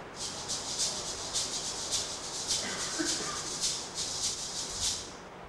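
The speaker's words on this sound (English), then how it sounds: "This is a gourd with notches on it and a handle and a cage of beads" Rhythmic, crisp rattling of a cage of beads against a notched gourd with a handle, a steady pulse of about ten shakes, close and fairly quiet with no voices.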